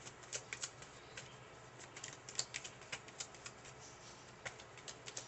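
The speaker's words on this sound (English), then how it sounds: "Thank you for tuning in today as I shuffle our last cards." Tarot cards being shuffled by hand, a quiet run of irregular crisp flicks and soft riffling taps close up, with no speech.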